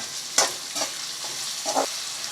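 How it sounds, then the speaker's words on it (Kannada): Finely chopped onions fry in a pan for a cauliflower egg bhurji, a continuous close sizzle broken by several louder scraping stirs spaced through the clip. "ಮೀಡಿಯಮ್ ಫ್ಲೇವರಲ್ಲೇ ಸ್ವಲ್ಪ ಕೆಂಪಾಳ ಬರೋವರೆಗೂ ಹುರ್ಕೊಳ್ಳೋಣ"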